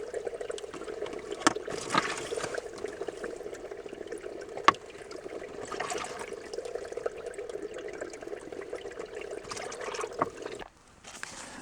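Water trickles and splashes softly nearby as water is collected at a campsite, a gentle continuous flow with occasional louder dribbles and clinks.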